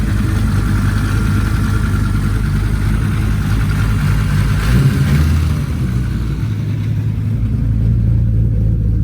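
A front-wheel-drive Volvo 850 T-5R engine runs steadily and loud and close, holding a constant idle-like drone with a slight swell midway and no talking.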